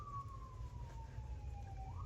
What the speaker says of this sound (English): Sorry about all the sirens. They're coming really close.